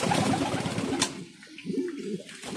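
Mundian pigeons coo softly near a water bath, low rolling calls under a faint splashing wash with no voices.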